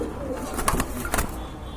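Large pigeons at a pigeon farm give brief, soft cooing calls, a couple of low throaty notes close by against a steady background murmur.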